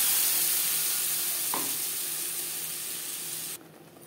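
Cumin, dried chili, bay leaf and spice paste frying in oil for a Bengali tel potol dish, giving a steady, fairly loud sizzle with one brief stir or clink midway before the hiss drops off near the end.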